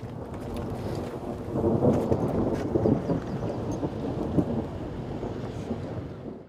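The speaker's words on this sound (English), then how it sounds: "We're gonna wait this storm out." A thunderstorm over Lake Memphremagog, with steady rain and low rolling thunder that swells and fades, heard outdoors without any voices.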